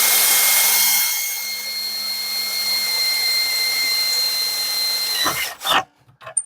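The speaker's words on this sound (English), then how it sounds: "We got some drillage going on here." A power drill whines steadily for about five seconds with a high motor tone while working on a PC water-cooling build, then stops abruptly, followed by a few clunks and handling noises.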